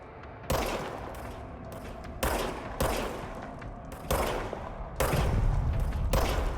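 The Service Weapon in the video game Control fires in bursts of loud gunshots, several sharp reports spaced across a few seconds, with the final burst turning into rapid sustained fire.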